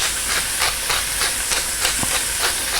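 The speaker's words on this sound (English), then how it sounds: "I'm just going to saute my other vegetables for a couple of minutes here." Vegetables sauté in a hot pan for beef and barley soup, a steady sizzling hiss with faint rhythmic pulses of stirring, close and continuous without any talking.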